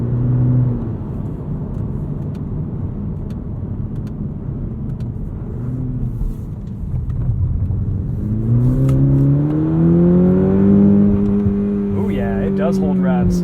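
A 2021 Cadillac CT4 V-Series AWD engine with a 10-speed automatic idles as a low steady drone, then revs up and holds high, its rising harmonic tones climbing and sustaining loudly up close without speech.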